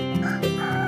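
A rooster crows once, a short strained call with a rising and falling tone, loud and close, with no speech around it.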